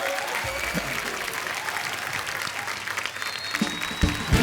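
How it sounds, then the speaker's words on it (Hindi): A TV comedy show's studio audience gives loud, continuous applause, a thick roar of clapping that carries through steadily, with a few brief voices and cheers near the end. "जोरदार तालियां सिम्बा के लिए"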